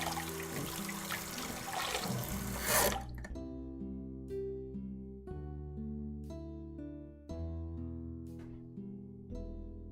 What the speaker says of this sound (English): I'm gonna rinse off my spatula real quick, like.